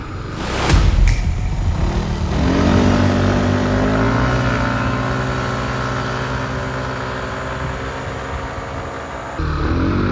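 Zontes 150X scooter accelerating hard from a stop: after a brief rev, the engine note rises steadily and holds a strong drone for several seconds, loud and close.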